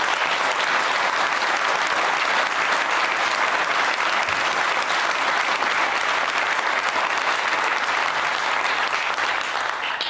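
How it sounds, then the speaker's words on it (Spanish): Audience applause at a speech to business leaders in Argentina, loud sustained clapping from a large crowd filling the whole stretch without letting up. "les dedico el aplauso que ustedes tuvieron recién"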